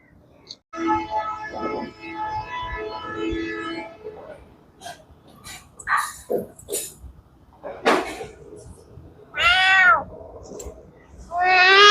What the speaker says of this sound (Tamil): வேற பூனி ஒன்று வந்திருக்கு, சின்ன பூனி ஒன்று